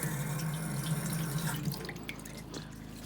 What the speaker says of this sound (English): the pump just turned on, and I get a pretty good water flow there